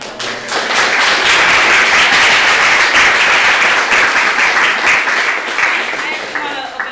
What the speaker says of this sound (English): you can totally clap for all of our panelists.